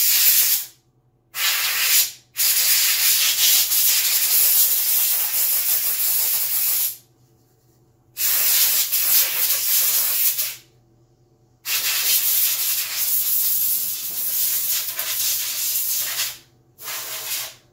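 Compressed air sprays onto a PS4 Pro heatsink in long loud hissing bursts, four main blasts separated by short silences, steady and close.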